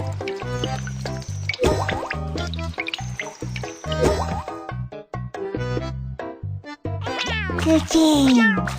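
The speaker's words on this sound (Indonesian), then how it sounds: "Kucing." Cartoon cat meowing in a children's animal song about a zoo, heard amid music and sung vocals, with a rising meow near the end.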